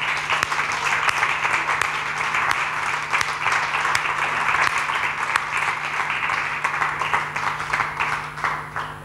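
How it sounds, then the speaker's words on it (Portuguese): A church congregation claps steadily through an Easter celebration service, a dense, even wash of many hands that holds at full strength for about nine seconds, with a faint sustained tone underneath. "Podemos aplaudir Jesus."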